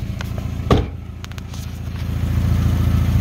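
A Mazda Miata NA6 engine runs at a steady, close idle, with a sharp click or clank early on and a low, even exhaust drone that rises slightly in loudness toward the end; no voices.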